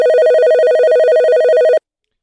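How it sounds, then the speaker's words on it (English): A phone ringing tone sounds steadily and loudly while a call is placed, a single sustained ring lasting under two seconds before cutting off into silence. "let me see if I can get Lorna on the line"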